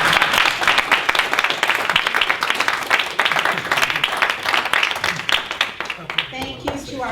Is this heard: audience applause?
yes